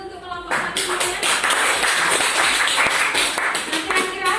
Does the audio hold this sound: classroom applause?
yes